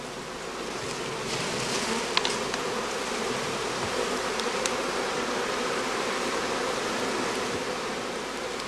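Honeybees swarm around hive boxes at a heathland bee farm during the cast swarming period, a dense, steady buzzing that fills the air continuously at close range with no voices.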